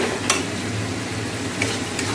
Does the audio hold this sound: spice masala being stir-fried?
yes